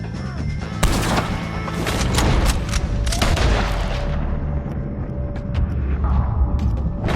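Repeated gunshots crack out in a Red Dead Redemption 2 shootout with O'Driscoll gang members, loud and close, several sharp reports in irregular bursts with echoing tails and no talk.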